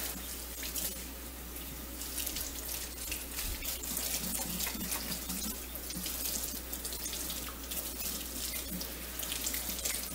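A faucet runs steadily into a sink, a constant splashing rush of water with a low hum beneath it, no talking.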